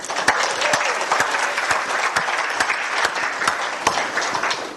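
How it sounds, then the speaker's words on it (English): A lecture audience gives itself a round of applause, a steady close crowd of clapping with a few sharp individual claps standing out and no talk. "And now give yourselves a nice round of applause."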